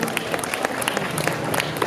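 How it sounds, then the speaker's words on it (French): A cosplay show audience claps for the costumed participants, a dense, moderately distant patter of applause lasting about two seconds. "Applaudissez. Faites honneur aux cosplayers."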